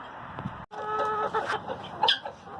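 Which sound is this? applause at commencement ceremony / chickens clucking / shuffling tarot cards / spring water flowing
chickens clucking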